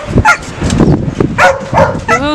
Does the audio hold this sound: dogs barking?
yes